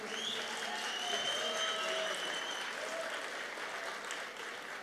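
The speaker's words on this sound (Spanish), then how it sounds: "y vamos por los aplausos de Mao." Steady audience applause for a contestant named Mao at a Campus Party event held with SENA, a dense, sustained clapping at moderate distance that holds through the clip and eases slightly toward the end.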